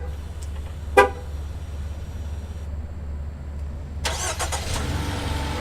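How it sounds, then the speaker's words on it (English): A 2018 Jeep Renegade Trailhawk responds to a remote start with one short horn toot, then after a pause its engine cranks and settles into a steady idle, heard close over a constant low hum. "And the vehicle is going to start up for 10 minutes."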